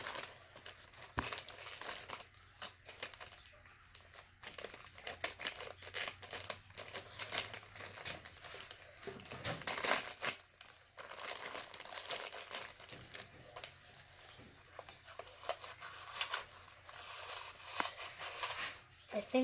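Scissors cut through crinkly plastic packaging on a mystery collectible, giving close, steady crackling and rustling with occasional sharper snips, with a voice murmuring faintly in the background.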